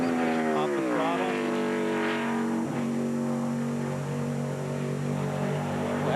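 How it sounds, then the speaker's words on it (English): A NASCAR stock car engine on a qualifying lap at Pocono in 2002 holds a steady, loud tone that sweeps upward early, then continues as a sustained drone throughout. "We can listen and see where and when he shifts."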